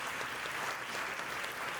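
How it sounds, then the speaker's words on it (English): An audience applauds honorees at a families' graduation celebration, a steady wash of many hands clapping together, moderately loud and even throughout the short burst with no voices. "We'd love to give you a round of applause as well."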